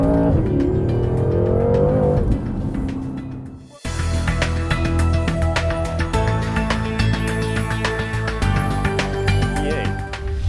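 A 2013 BMW M6 with a 560-horsepower engine pulls away. Its engine note rises and falls, then cuts out briefly before it revs hard again with a loud, strained roar. There is no talking.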